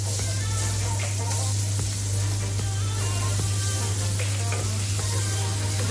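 Onions hitting hot oil for homemade soya chunk vadi rice give a loud, steady sizzle and hiss that runs the whole time, with faint clinks and stirring scrapes over a constant low hum.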